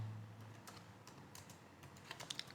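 Computer keyboard keys tapped in quick, uneven bursts while writing Python Pandas code, soft and close, with a few sharper clicks near the end and no voices.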